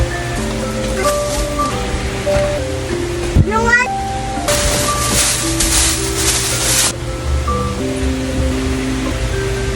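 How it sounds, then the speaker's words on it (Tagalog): Steady hiss of rain pouring down, with a short burst of louder downpour midway, under background music and a brief spoken exchange. "Umuulan."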